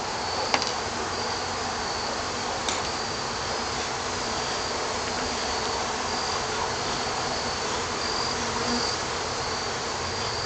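A dense, continuous swarm of bees buzzes steadily throughout, close and fairly loud, with a faint high whine above.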